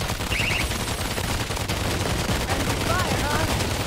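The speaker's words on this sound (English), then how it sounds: "I set up an auto turret." Auto turret in the World War Z video game firing continuous rapid bursts, loud machine-gun chatter mixed with other gunfire and game effects, sustained for several seconds.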